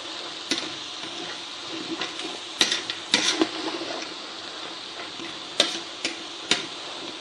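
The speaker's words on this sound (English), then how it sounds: "keep stirring it about until it's kind of all reduced down and gone all nice and soft" Tomato sauce is stirred in a pan as it reduces, with a soft sizzling bed and sporadic sharp spoon taps and scrapes against the pan, close and fairly loud, with no talking.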